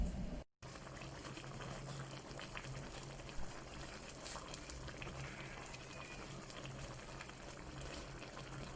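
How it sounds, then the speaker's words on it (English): Durban-style South African crab curry simmering in a pot, a faint continuous bubbling hiss with small pops, steady and close but quiet, with no talking. "this has been simmering for like 7 minutes already"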